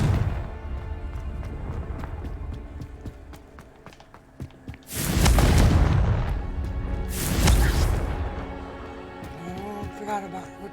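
A Confringo blasting spell goes off in Hogwarts Legacy, producing two heavy, close booming explosions a couple of seconds apart, each with a broad roaring burst, amid clicking effects and a faint voice afterward.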